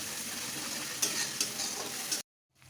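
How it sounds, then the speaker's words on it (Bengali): Spice paste of cumin and dried chili fries in hot oil for a chicken curry, a steady broadband sizzle with a few sharp stirring scrapes, close and continuous before cutting abruptly to near silence. "এই মশলাটাকে আমি কিছুক্ষণ কষাবো।"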